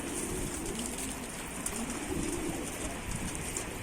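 Pigeons cooing softly at a pigeon loft amid a steady outdoor wash of ambient noise, with no talking.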